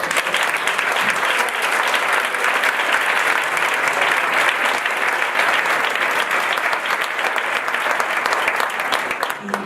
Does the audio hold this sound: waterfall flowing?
no